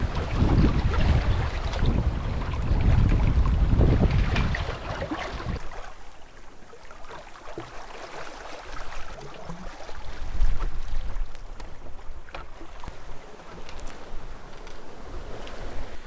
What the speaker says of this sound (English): So the winds have picked up slightly now.